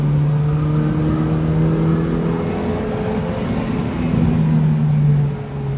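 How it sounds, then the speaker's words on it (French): A Mazda MX-5 NBFL engine is held near 7000 rpm, a loud, close, sustained high rev that dips briefly before dropping off at the end. "Un petit 7000 tours. Ah, c'est pour bien montrer la sonorité à tout le monde."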